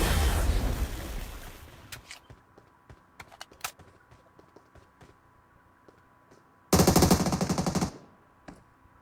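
Gunshots crack in a shooting video game, scattered single shots followed by a loud sustained burst of rapid machine-gun fire, with sparse clicks and thuds between.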